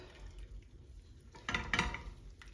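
Wool being massaged by hand in hot tap water with dye, giving soft wet squelching and sloshing that swells into a brief louder burst of splashing midway, then settles.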